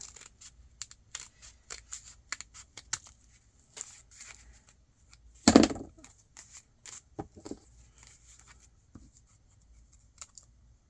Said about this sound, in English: Look at the bottom. Let's trim that up.